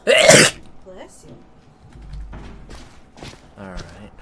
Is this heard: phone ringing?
no